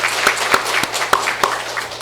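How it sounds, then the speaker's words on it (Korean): A church congregation at a Sunday morning worship service claps in steady, fairly loud applause filling the hall for about two seconds. "박수로 한번 격려해 주시면 감사합니다"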